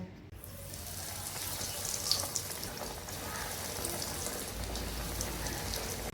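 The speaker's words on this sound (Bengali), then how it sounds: "তো ফিশ ফ্রাইটা এখন ফ্রাই করা হবে" Fish fry pieces sizzling in hot oil, a steady, dense crackle and hiss that holds evenly throughout, close and fairly loud with no voices.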